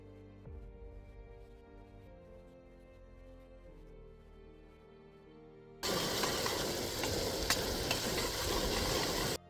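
Chopped onion goes into hot oil in a pan and sets off a loud, dense sizzle that holds steady to the end, following a quieter stretch of low hum and faint tones.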